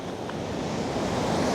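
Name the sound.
strong ocean waves at a remote beach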